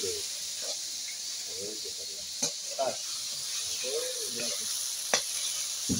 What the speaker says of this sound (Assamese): দুবৰি ভাজি আছে